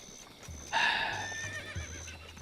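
Epona, the horse from Zelda: Breath of the Wild, gives one clear, moderately loud whinny with a shaky, wavering pitch, framed by soft hoof clops before and after.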